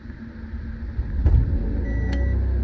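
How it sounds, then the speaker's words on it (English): The generator on a 2016 Thor Majestic 28A motorhome cranks briefly, then settles into a steady low mechanical hum. A short electronic beep from the microwave sounds near the end. "Okay, so generator's running."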